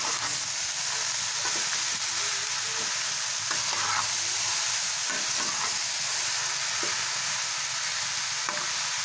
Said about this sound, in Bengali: দিয়ে আমি পুরো মশলার সঙ্গে সুন্দর করে মিশিয়ে নেব